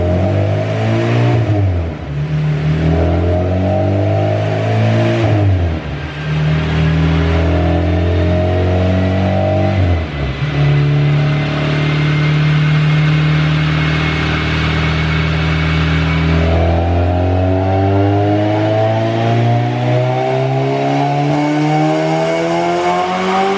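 A turbocharged Honda GSR engine in an EF sedan revs hard at wide open throttle on a dyno, rising in pitch through repeated pulls with brief dips between, loud and close throughout with no talk.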